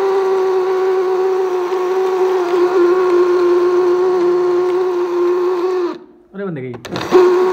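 A mixer grinder grinds ginger with a loud, steady motorised whine and strong tonal harmonics, then cuts off near the end, followed by brief rattling and a short restart.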